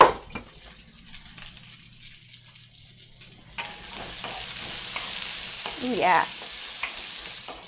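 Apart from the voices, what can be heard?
sweet potatoes being stirred and sizzling in a hot wok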